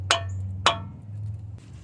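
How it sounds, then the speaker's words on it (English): Two sharp metallic hammer taps ring out on the axle of a Dodge Durango 4.7 AWD during axle replacement, spaced about half a second apart, over a low steady hum. "I'm gonna tap the axle here."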